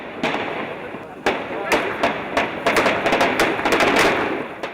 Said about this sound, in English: by the mere sound of the guns, it immediately emerged that these were sophisticated weapons